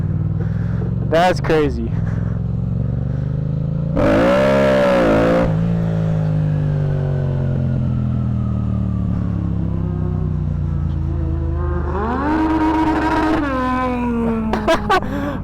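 A custom F09 car with a race motor revs hard on its raised limiter, loud and close, with bursts of high-pitched engine howl between lower idling rumble while people exclaim and talk over it.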